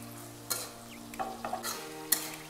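Fried dry fish is stirred into tomatoes frying in a pan for a taro root and dry fish dish: a low sizzle with a few sharp scrapes and clinks of the spoon against the pan.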